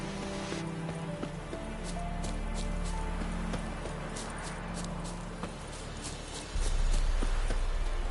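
Horse hooves clop along in The Witcher 3, a steady rhythmic beat of hoofsteps over a low ambient game background, fairly close and continuing throughout.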